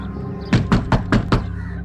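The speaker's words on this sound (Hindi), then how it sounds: "अरविंद दरवाजा खोलो।" Five firm, evenly spaced knocks thud on a wooden door, close and loud against a quiet room, with no one speaking.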